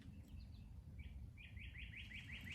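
Birds in the woods sing close by, a run of rapid repeated chirping notes over a low rumble of background noise, with an earlier softer call.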